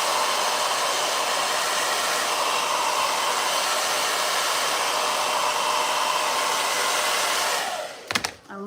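A blow dryer roars steadily at close range for most of the time, then shuts off, followed by a few clunks and handling noises.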